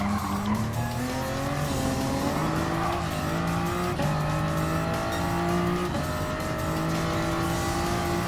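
Group 3 race cars at the Nurburgring in the video game Gran Turismo Sport, with loud, continuous engine whine rising and falling through gear changes and tires squealing through the corners, heard close without talk.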